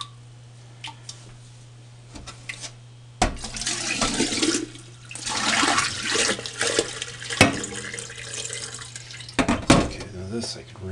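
Running water splashes and gurgles over charcoal from a water distiller being rinsed, with intermittent clunks and a steady low hum underneath; the flow starts after a quiet opening.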